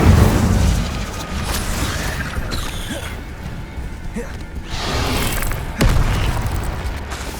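Hogwarts Legacy combat with the Incendio fire spell being cast. Booming bursts and crashing impacts rise over a constant noisy game background across several seconds.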